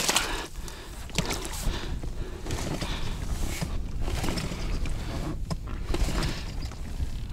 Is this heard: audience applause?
no